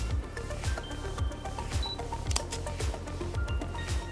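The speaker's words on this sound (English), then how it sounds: "the camera will focus and take a shot." Canon EOS M mirrorless camera with an 18-55 kit lens, focusing and firing: a steady run of small mechanical clicks and whirs repeating about every half second, close and fairly loud, with no talking.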